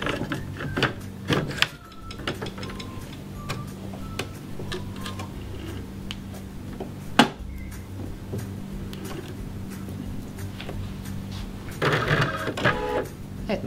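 A home embroidery machine stitches a design for a children's shorts outfit, giving close, steady rapid mechanical ticking and clatter with occasional louder knocks, and a faint voice now and then.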